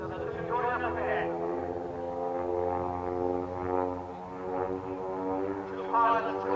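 Two propeller aeroplanes flying together in formation at the Old Buckenham air show in Norfolk, UK: a steady, droning engine hum that rises and falls gently, with a commentator talking over it.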